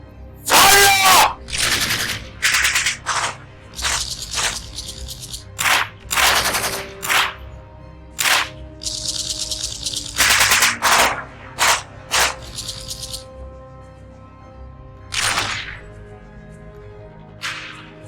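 Rapid bursts of gunfire ring out in a movie scene, sharp cracks and volleys repeating loudly across the whole stretch with short pauses between, no talk over them.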